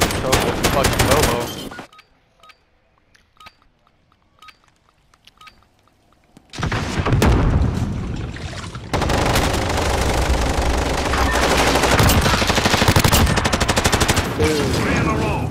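Loud sustained machine gun fire in the Modern Warfare video game, rapid automatic bursts in a dense stream, dropping out briefly to near silence for a few seconds before resuming heavily and continuously to the end.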